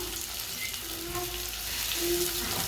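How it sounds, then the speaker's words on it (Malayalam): Sliced onions go into a frying Kerala-style pepper chicken, bringing a steady, close sizzle with soft crackle and a faint background hum, no voices. "അതിന് ശേഷം നമ്മുടെ സബോള അരിഞ്ഞ് വെച്ചത് അതിലേക്ക് ഇടാം."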